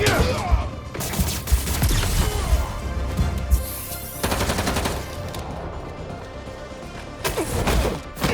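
Gunfire in the Spider-Man 2 video game, loud bursts of rapid shots and cracks repeating in clusters, with crashes and thuds in between and faint game sounds underneath.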